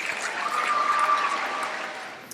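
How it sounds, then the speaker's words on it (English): Audience at a middle school graduation ceremony clapping in a sustained, dense burst of applause that holds steady and then tapers slightly at the end, with no talking over it. "please hold your applause until all the graduates have received their diplomas"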